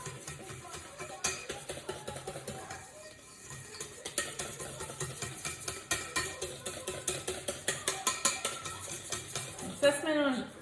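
Cake batter of flour, yeast and apple being stirred in a bowl, with rhythmic close scraping and tapping strokes of a utensil against the dish, quickening toward the end.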